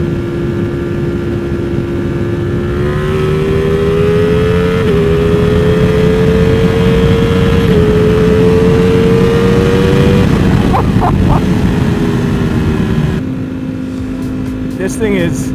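Custom Ducati Streetfighter motorcycle at wide-open throttle, a loud, close engine drone climbing steadily in pitch through several gear changes before easing off.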